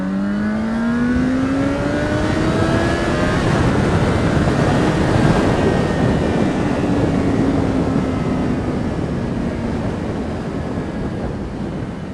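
2012 Yamaha FZ6R motorcycle accelerating hard in second gear, its engine note rising steadily in pitch under heavy wind roar, loud and close for the whole stretch.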